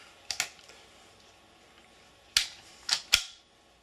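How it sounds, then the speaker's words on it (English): A magazine slides into a .45 ACP pistol, a Sig P220 Elite or Glock 30 SF, giving a couple of faint metallic clicks, then after a pause a quick series of three sharp, close clacks as it seats. "Now I'm going to put the magazine in there."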